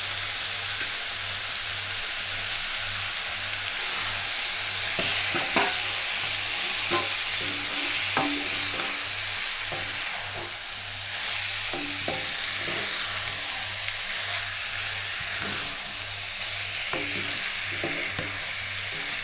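Cleaned prawns sizzle and fry in a pan for a spicy prawn gravy, with a steady, loud hiss broken by repeated clinks and scrapes of stirring, close by and with no talking.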